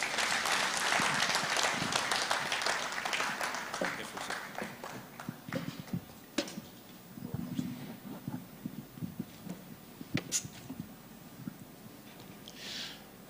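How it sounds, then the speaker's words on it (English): Audience at an honorary fellowship investiture clapping, a dense burst of applause that thins into scattered, fading claps. "another round of applause"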